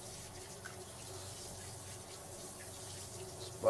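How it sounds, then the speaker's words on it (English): Running tap water splashes steadily as dishes are rinsed at a kitchen sink, a faint, even gush with a small clatter at the end. "let's rinse this off."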